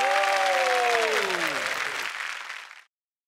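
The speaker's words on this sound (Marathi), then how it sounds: "जोरदार टाळ्या झाल्या पाहिजे त्या मित्रांच्या जोडीसाठी" Studio audience on a Marathi comedy show bursts into loud, sustained applause for an actor duo, with musical tones fading underneath before the clapping tapers off near the end.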